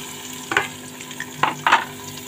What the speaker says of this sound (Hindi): अब इसमें हम डाल देते हैं प्याज।